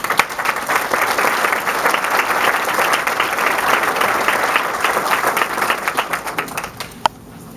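Sustained applause from an audience at an employee recognition event honoring businesses, steady dense clapping throughout that thins and fades near the end.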